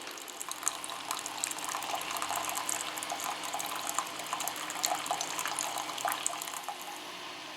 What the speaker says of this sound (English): Now let's make ourselves a cup of coffee.